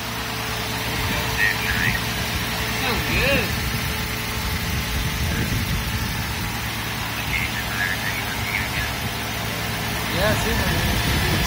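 A Mazda CX-9 engine, freshly swapped in after a water pump failure, idles steadily with a low, continuous rumble, and people talk over it.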